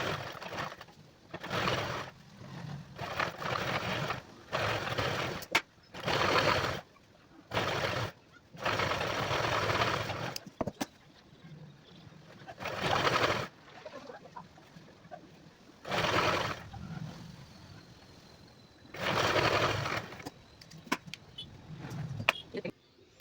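An electric sewing machine stitches the hem of a blouse in repeated whirring bursts, each run lasting a few seconds and separated by short pauses, heard up close.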